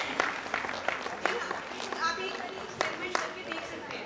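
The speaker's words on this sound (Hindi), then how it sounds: "आप लोग इनका तालियों से उत्साहवर्धन कीजिए." Audience applause at a grandparents' day picture game, with scattered claps rising and falling amid lively crowd voices and people talking throughout.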